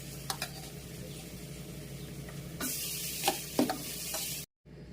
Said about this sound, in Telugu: ఇప్పుడు అన్నము ఇందులో వేసేద్దాము